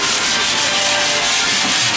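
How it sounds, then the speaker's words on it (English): Close, continuous rasp of hand sanding on a 1976 Toyota FJ40 body under restoration, a steady scratchy rubbing stroke with no voices. "it's all hand sanding"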